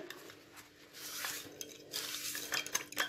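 Salt, sugar and oil are stirred together in a bowl for pizza dough, giving soft clinking and scraping of a utensil against the dish in short irregular strokes, faint and close with no talking.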